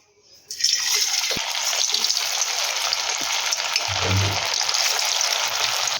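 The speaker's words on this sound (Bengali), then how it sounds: "এবার এগুলোকে আমরা তেলে ভেজে নেব" Sabudana pakoras dropped into hot oil in a wok, a sudden loud continuous bubbling sizzle that starts after a short quiet moment and holds steady, with a couple of faint clinks.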